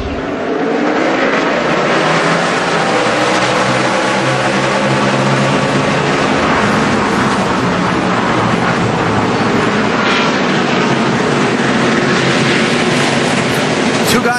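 NASCAR stock cars racing at Watkins Glen in 2011, a loud sustained roar of engines at full throttle passing close, continuous and dense with faint commentary mixed in.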